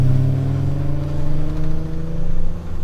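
A 2004 Toyota Hilux with a 1JZ engine swap and big turbo pulls away, its engine giving a steady, deep droning hum with slight rises and falls in revs, heard from inside the cabin with no talking.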